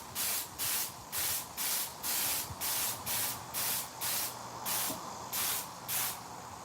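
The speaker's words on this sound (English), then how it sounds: "I'm not spraying too harshly" Short bursts of aerosol spray paint hiss onto a Michael Myers mask in a steady rhythm, about a dozen quick pulses, close and fairly quiet with faint handling noises underneath.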